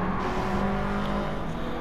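A Subaru 22B and a Corvette race through slow corners, a steady, continuous engine drone with tyre noise holding at moderate loudness throughout, no voices present.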